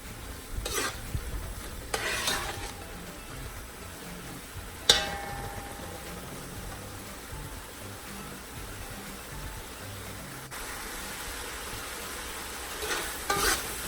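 Nigerian fried rice with vegetables cooking down in an open pot, a steady low sizzle and bubbling broken by a few louder stirring scrapes and clinks near the start and end, with no talking.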